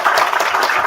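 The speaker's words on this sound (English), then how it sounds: "let's give him a round of applause" An audience applauds a musician at an in-person Sunday church service, with steady, dense clapping that continues at an even level throughout.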